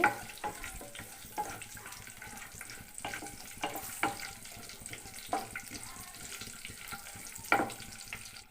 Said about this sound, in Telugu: కొన్ని జీడిపప్పులు కూడా వేసుకుందాం. ఇవి కాస్త వేపుకుందామండి.